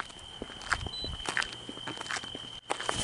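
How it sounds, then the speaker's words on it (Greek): Footsteps sound during a night ghost hunt at Vidova, a series of soft, irregular thuds and scuffs nearby against a quiet background with a steady electronic whine. "Όχι, δεν χτύπησε, ήταν βήματα"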